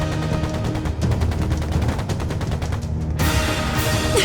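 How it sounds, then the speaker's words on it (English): Sustained rapid gunfire in a battle from The Legend of Heroes: Trails into Reverie, dense overlapping bursts of shots rattling continuously, loud and close, with a heavier volley near the end. "Don't stop firing!"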